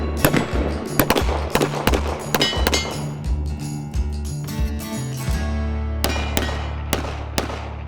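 Sharp, loud gunshots crack out in an uneven string at a swinging target on a shooting range, with repeated close reports and ringing echoes in between.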